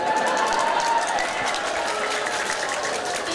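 Applause from a comedy show audience, steady dense clapping throughout, fairly loud and close, with a voice faintly heard beneath it.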